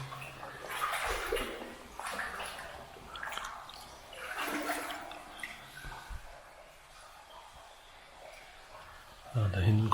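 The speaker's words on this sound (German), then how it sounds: "da hinten kommt irgendwo das Wasser her" Water runs and splashes faintly inside a flooded WWII bunker, echoing under people talking throughout.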